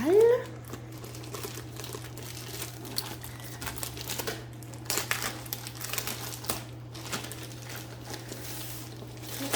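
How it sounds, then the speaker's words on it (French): Packaging crinkles and crumples as a diamond art canvas is unwrapped, with repeated irregular bursts of close plastic rustling over a steady low hum. "On va ouvrir la toile."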